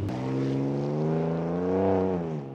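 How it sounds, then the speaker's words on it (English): A Ford Ranger Raptor's V6 twin-turbo petrol engine is held at a steady, rumbling rev with a sustained harmonic drone that swells slightly and then drops off, heard alone and close. "it has the most powerful engine in its class from this V6 twin turbocharged petrol motor, which sounds like this."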